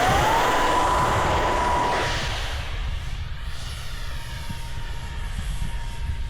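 A fast RC NGAD model jet, battery powered with a 1500 mAh pack, roars loudly as it rips past, its pitch sliding and then holding steady as the sound fades slightly, with steady wind-like broadband noise.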